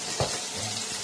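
Tomato and ginger frying in a pan, a close, brief hiss and sizzle with a small bump of stirring at the start.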